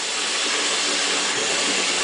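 Hot water pours steadily into a plastic beer-brewing container, a continuous loud rushing hiss close to the microphone with no pauses.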